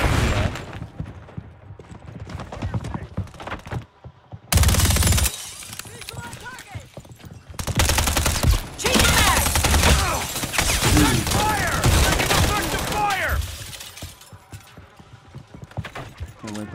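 Dense bursts of automatic gunfire from a Call of Duty Modern Warfare 3 (2023) match, loud and near, coming in rapid overlapping volleys with a short pause partway through, while voices talk over the shooting.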